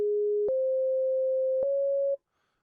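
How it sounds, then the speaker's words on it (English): A pure sine tone from the Ableton Operator synthesizer steps up in pitch twice, each step marked by a small click, and then cuts off abruptly into silence. "So we've got a basic sine wave here."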